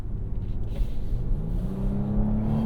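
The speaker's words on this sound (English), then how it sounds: "You can hear the classic Hyundai Kia ghost in a vacuum cleaner sound that comes through the speakers in sport mode" Synthetic engine sound from a 2023 Genesis GV80 in sport mode, piped through the cabin speakers: a steady droning hum that rises gradually in pitch as the SUV accelerates, with constant low road rumble underneath and no talking.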